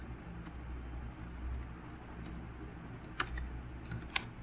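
Someone types on a computer keyboard with soft, irregular key clicks and a couple of sharper taps near the end, quiet and close over faint room hum.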